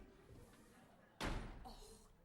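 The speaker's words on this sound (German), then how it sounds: "Da schlägt die mir die Tür vor der Nase zu." On a folk theatre stage, a door is slammed shut with one loud, sharp bang. Quiet room noise comes before it and a brief rattle follows as it settles.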